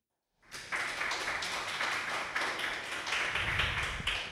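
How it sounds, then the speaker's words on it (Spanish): An audience at a talk-show taping breaks into applause for an arriving guest, the clapping starting abruptly after a brief silence and holding steady and dense, close by, with no talk over it. "Les pido un aplauso por favor para Augusto"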